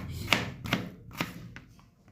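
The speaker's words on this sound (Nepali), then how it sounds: "यो चाहिँ प्याज हामी काट्दैछौँ" A kitchen knife chops through onion on a board in about five crisp, evenly spaced strokes, close and clear, the later ones growing softer.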